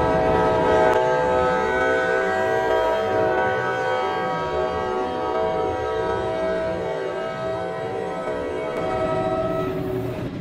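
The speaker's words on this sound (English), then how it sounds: "Time to hit it with a train." A train in a Roblox game bears down on a bus, its horn blaring in a long sustained tone over a steady rolling rumble, loud and close, with no talk.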